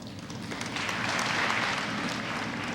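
An audience at a middle school graduation ceremony claps in steady, dense applause that swells slightly toward the middle, heard from within the hall with no talk.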